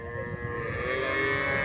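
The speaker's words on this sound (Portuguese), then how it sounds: "Vaca muito boa aqui, ó." A cow gives one long, low, sustained moo at a traditional cattle fair in São Bento do Una, Pernambuco, loud and close, with no talking.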